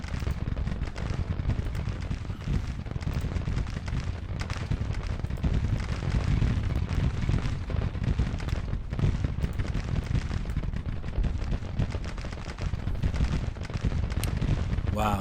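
Artillery and musket fire from a Civil War battle in the strategy game Grand Tactician, a dense, continuous crackle of overlapping booms and pops that stays loud and steady throughout.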